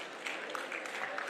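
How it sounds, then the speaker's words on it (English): Applause at a live international conference on AI-driven management, steady and moderately distant as guests are called on stage, filling the whole moment without talk over it. "Please give them a huge round of applause"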